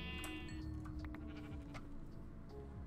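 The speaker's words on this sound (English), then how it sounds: "fortunately there's a bunch of sheep around here" Sheep in Minecraft let out short, wavering bleats, one clear call near the start and softer ones after, heard alone over faint game ambience.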